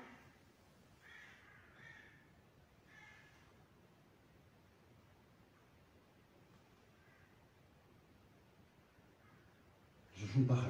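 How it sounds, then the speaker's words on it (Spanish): A bird, likely a crow, gives a few faint cawing calls in a quiet indoor space, spaced a couple of seconds apart, followed by a louder rustling bump at the end. "No, eso es un pájaro, ¿no?"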